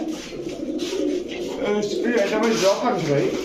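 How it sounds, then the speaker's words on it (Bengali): Pankhi pigeons cooing in a pigeon market, a steady stream of soft, throaty coos from several birds close by, mixed with background chatter. "অ্যাশ চোখ পাঙ্খি কবুতর"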